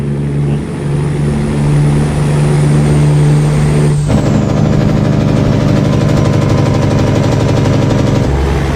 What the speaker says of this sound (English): That's a nice sound in the engine, man. It's a new mod that's on the Steam Workshop.